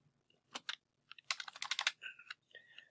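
Quick bursts of computer keyboard typing, short clusters of crisp key clicks with brief pauses between, close but fairly quiet, no talk.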